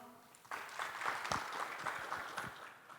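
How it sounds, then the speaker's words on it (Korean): Audience applause welcoming a presenter from Jongno District onto the stage at an innovation expo, a clapping crowd starting abruptly about half a second in and holding steady at moderate level until the end. "박수로 맞이해 주십시오"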